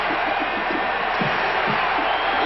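A dense, steady roar from a football stadium crowd at a 1998 Eagles at Washington game, with fans cheering as a sustained wash of noise and no clear breaks.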